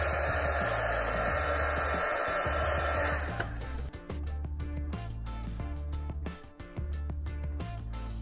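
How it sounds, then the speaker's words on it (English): Heat gun blowing steadily while shrinking heat shrink tubing over a sleeved cable for an LED Bulgin switch, a loud continuous airy whoosh close to the microphone with some clicks and handling. "Now, to do this properly, I need to heat shrink this slowly and keep positioning it so it comes out real nice."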